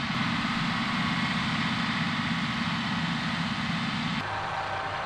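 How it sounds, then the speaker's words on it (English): A new John Deere 6R155 tracked tractor pulling a 4.5-metre seedbed preparator and harrow across onion land, its engine a steady low droning hum that drops in level sharply near the end. "A brand new John Deere 6R155 is preparing land for onions."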